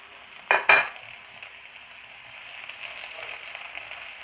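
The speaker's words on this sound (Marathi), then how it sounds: "हा मसाला थोडासा भाजला की मी एक चम्मच अद्रकचे तुकडे आणि एक चम्मच लसणचे तुकडे टाकून घेते याच्यामध्ये" Ginger and garlic pieces frying in roasted masala in a pan, opening with two sharp clatters as they drop in, then a soft, steady sizzle that swells slightly, close and with no talking.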